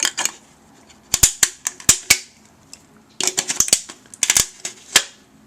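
Sharp metallic snipping clicks as snips cut through the lip of a metal can, two quick bursts, each a rapid series of crisp cuts with short pauses between, close and fairly loud.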